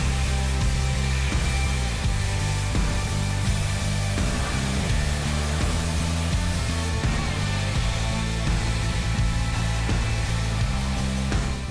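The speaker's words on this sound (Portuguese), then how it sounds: "agora é só ligar a lavadora e sair brincando e limpando" A WAP 4100 high-pressure washer runs steadily and loudly, a constant motor drone with a dense hiss of spraying water that holds without break throughout.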